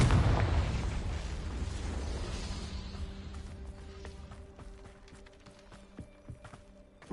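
A Confringo fire spell detonating in Hogwarts Legacy, a loud booming blast at the start that rumbles and decays over several seconds, followed by scattered softer game effects and small pops, no speech.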